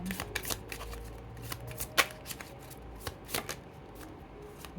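Oracle cards being shuffled by hand, a run of soft riffling slaps and flicks in an uneven rhythm with a few sharper snaps, close up and alone against a quiet room.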